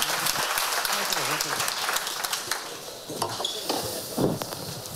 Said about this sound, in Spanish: Yo creo que se han merecido un aplauso a nuestros ponentes